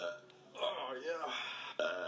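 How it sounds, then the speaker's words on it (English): A long, drawn-out burp from a played burp compilation rumbles and gurgles at close range, mixed with voiced, talk-like sounds. "That was like a 15-minute burp."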